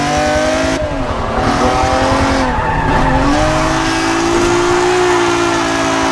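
A car drifting in a racing video game, its engine droning steadily while the tires squeal in long, sliding wails that bend up and down in pitch as the car swings through the slide, loud and with no talking.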